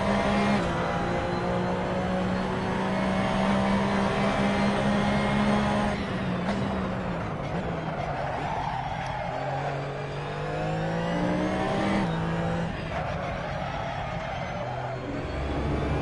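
A Porsche engine in the Assetto Corsa racing game drones steadily throughout, its pitch rising through the gears with shift dips near six and twelve seconds, loud and continuous with no talk.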